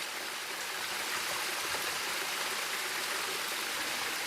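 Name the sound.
waterfall and rippling creek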